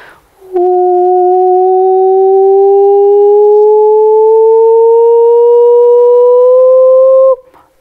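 A voice imitates a siren with one long sustained hum that slowly glides upward in pitch for about seven seconds, smooth and loud, then stops.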